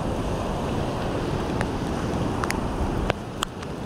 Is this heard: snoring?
no